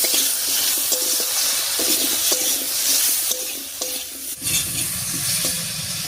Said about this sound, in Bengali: হলুদ লবণ দিয়ে আলুটা খুব ভালো করে মিশিয়ে নিয়েছি